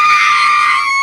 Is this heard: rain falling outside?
no